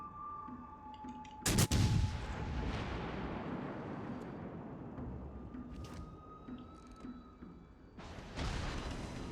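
Heavy gunfire and booming shots from mobile suits in the Gundam Battle Operation 2 video game, a couple of sharp loud blasts over a rumbling battle bed with scattered bursts.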